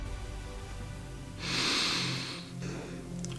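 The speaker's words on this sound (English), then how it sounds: "and do a little sniff test." A person takes one close, breathy sniff at the open mouth of a jar terrarium, a single airy inhale of about a second rising from quiet room tone, followed by a fainter breath.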